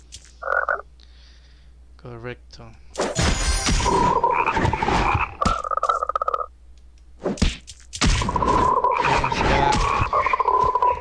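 Chocolate frogs in the Harry Potter: Puzzles & Spells mobile game make repeated short croaks mixed with thwacks as they are tapped, interspersed with game chimes, while a person talks briefly.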